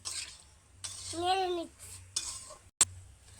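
A spoon scrapes and stirs chickpea chaat around a pan in a few short strokes, with a light metallic clink near the end.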